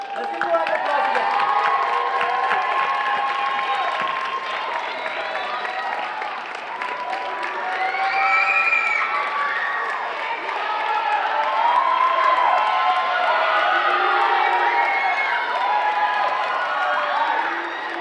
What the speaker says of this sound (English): Let's give a round of applause again.